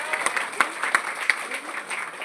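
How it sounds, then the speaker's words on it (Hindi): Audience clapping at a business achievers' recognition event, scattered and uneven with several sharp loud claps standing out, while music plays underneath. "के बाद तालियां तो बनती है ना।"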